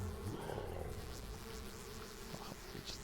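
Summoned bees in the Popup Dungeon video game, giving a steady close buzzing drone with a few brief flutters, no talk.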